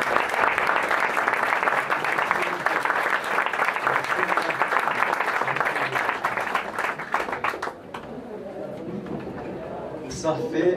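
An audience at a talk on Operation Condor and the Paraguay archive applauds loudly and steadily for several seconds before the clapping thins out. A voice then begins speaking over the fading claps.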